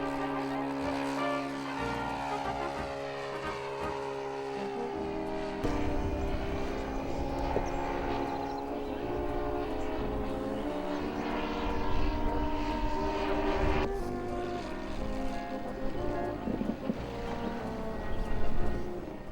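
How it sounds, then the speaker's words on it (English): A radio-controlled sport model airplane's small engine buzzes loudly and continuously, its high whine shifting in pitch as it revs and passes by. "Radio-controlled sport models take many forms in land planes."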